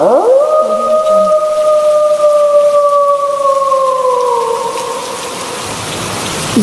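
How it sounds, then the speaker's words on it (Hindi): Heavy rain hisses steadily beneath a long, wavering howl that slowly sinks in pitch, like wind in a storm. "ये तेज़ तूफानी बारिश"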